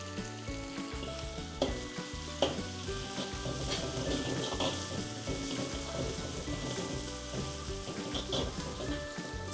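Paneer with capsicum, carrot and cabbage frying in a pan for noodles, a constant soft sizzle with scattered crackles and stirring scrapes, close but fairly quiet, with no speech.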